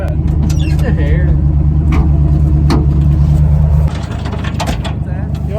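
A Bumpside Ford wrecker tow truck's engine rumbles loudly and steadily while rolling, with a low hum that drops slightly near the end, as people talk over it.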